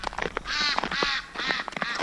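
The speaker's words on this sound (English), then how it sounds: "even the ducks are complaining because their pond is all frozen over" Ducks quack repeatedly in three or four loud, nasal bursts beside a pond frozen over in cold February weather, with short gaps between calls and no talking.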